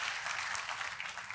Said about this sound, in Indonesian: Sekali lagi kita kasih tepuk tangan yang meriah buat Tuhan kita